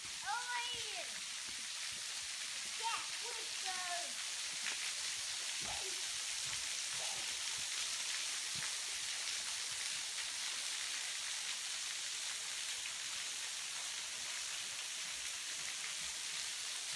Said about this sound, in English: You can hear that water falling.